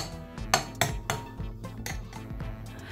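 A utensil stirring oil and sauce together in a pot for a Beninese rice-and-beans dish, giving a run of sharp metallic clinks and scrapes in an uneven rhythm, close and fairly loud, with no talking.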